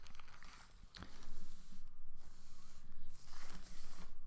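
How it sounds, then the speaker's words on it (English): Thin plastic bag handled and folded lengthwise close up, giving soft, continuous crinkling and rustling with brief louder crackles, no voices. "here you have a very normal plastic bag"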